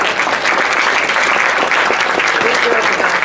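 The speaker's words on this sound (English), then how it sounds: "they deserve a big applause for being here" Seminar audience applause for guests on wrongful convictions, loud and continuous clapping filling the room at a steady, even level from start to finish.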